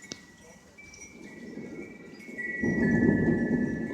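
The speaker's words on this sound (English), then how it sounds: "I just can't get a hold of the thunder, man. It's intense." Deep rumbling thunder rolls through a severe thunderstorm with strong winds, starting as a low growl and swelling louder toward the end, with a sharp crack near the start and rain hissing underneath.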